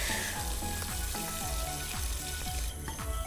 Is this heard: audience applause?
no